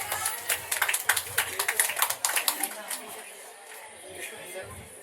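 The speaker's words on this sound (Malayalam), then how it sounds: "അഞ്ജലിനെ എല്ലാവരും ഒന്ന് കൈയടിച്ച് സ്വാഗതം ചെയ്ത്." Guests at a Kerala Christian engagement eve clap to welcome Anjali, a short burst of scattered applause from a small group, close by and fading after a few seconds.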